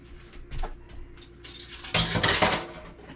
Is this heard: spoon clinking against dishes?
yes